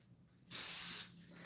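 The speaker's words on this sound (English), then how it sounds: "spray it with the non-stick spray" Non-stick cooking spray sprayed into an 8 by 8 inch baking pan, a single loud half-second hiss from the aerosol can, with quiet room sound before and after.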